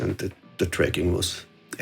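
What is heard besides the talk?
No distinct noise like a dog, phone or traffic.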